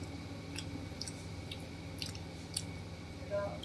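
Someone bites into and chews crunchy dried dates up close, producing sparse crisp cracks and crunches at irregular intervals over a quiet room background.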